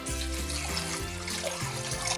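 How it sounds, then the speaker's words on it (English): Water, 500 millilitres, is poured steadily onto lime peels in a kitchen container, a continuous close splashing and gurgling with no talk. "So we're going to add 500 millilitres of water."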